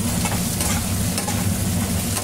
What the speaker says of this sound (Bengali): এরপরে আমি এখানে দিয়ে দেব আগে থেকে কেটে রাখা আলুগুলোকে একটু ভালো করে ভেজে নেব।